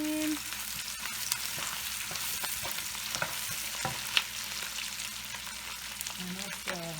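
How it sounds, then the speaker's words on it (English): Onion and garlic stir-frying in a pan, a steady broadband sizzle with scattered clicks and scrapes of stirring throughout, close and moderately loud with no talk. "you stir fry the onion, you put garlic just slightly. And mixing them."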